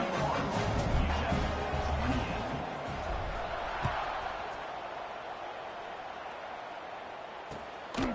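Crowd noise in the NCAA 26 football video game during a UTEP vs Memphis kickoff, a steady roaring wash of stadium cheering that eases slightly over time, with a few faint thuds and possible commentary underneath.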